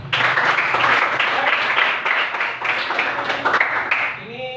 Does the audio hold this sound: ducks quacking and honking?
no